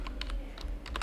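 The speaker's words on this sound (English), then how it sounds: "type the password of your SQL Server" Rapid keystrokes on a computer keyboard as a password is entered for a SQL Server login, several close, crisp clicks in quick bursts over a low steady hum.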